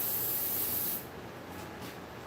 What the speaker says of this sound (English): So now I put spray adhesive on those cobwebs, and that's adding another layer.